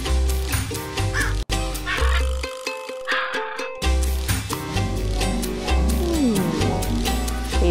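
Cartoon parrots squawking in a kids' fractions app game, loud harsh caws over bouncy background music, repeated several times, with a short pause in the music midway.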